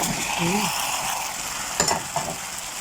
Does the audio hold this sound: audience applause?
no